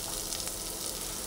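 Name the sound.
onions frying in a pan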